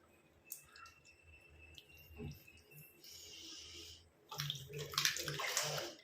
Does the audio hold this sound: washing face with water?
yes